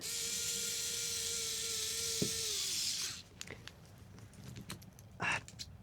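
A power driver whines steadily for about three seconds while fastening a battery down with two screws on an Amax R4, then gives way to scattered close clicks and handling knocks.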